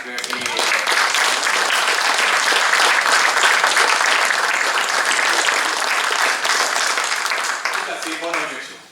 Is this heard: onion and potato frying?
no